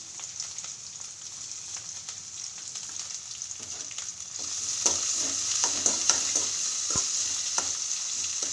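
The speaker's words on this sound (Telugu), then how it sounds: "క్యాప్సికము పచ్చిమిరపకాయ ఒక రెండు వేసుకున్నాను కట్ చేసేసుకున్నా దాంట్లో కొద్దిగా పచ్చిమిరపకాయలు ముద్ద వేసుకున్నా" Capsicum and green chilli paste fry in a pan, with a steady sizzle that grows louder partway through and occasional stirring scrapes, heard close with no voices.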